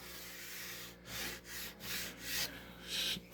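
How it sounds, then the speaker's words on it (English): A handheld sander works over a wooden edge in short repeated passes, a rough rubbing hiss that swells and eases in rhythm, close and moderately quiet with no talk. "I'll take my sander and kind of just go over it this way."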